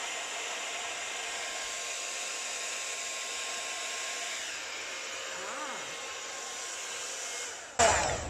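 A hair dryer blows steadily and close on poured acrylic paint, a continuous loud whoosh that cuts off with a click near the end.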